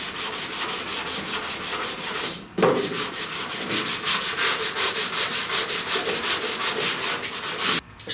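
Hand sanding on the upper cowl panel of a 1969 Chevrolet C10 pickup, a steady back-and-forth rasp in even strokes, close and loud, with one brief pause partway through and another near the end.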